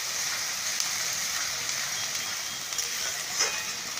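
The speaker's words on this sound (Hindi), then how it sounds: "मैं ये जो अदरक लहसुन प्याज का मैंने पेस्ट बनाया है वो डालूंगी मैं" Ginger, garlic and onion paste frying in a pan for egg curry, a soft continuous sizzle and crackle heard alone at low level.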